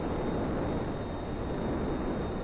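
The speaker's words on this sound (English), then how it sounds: "Yo, who's in that helicopter?" Steady broadband engine roar from a helicopter overhead, a continuous even drone with no breaks, fairly loud and close, with a faint high whine on top.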